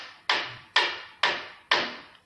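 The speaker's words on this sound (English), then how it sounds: "let's see how it sounds if I hit it against the table" A garden hose frozen stiff in liquid nitrogen strikes a table four times in a steady rhythm, each hit a sharp, loud, hard crack with a brief decaying ring, like a hammer blow, close and with no voices.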